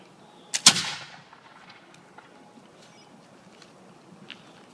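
Infantry at an 1812 reenactment fire a musket volley: one sharp, loud outdoor crack with a short rolling echo, followed by quiet ambience and faint distant noises.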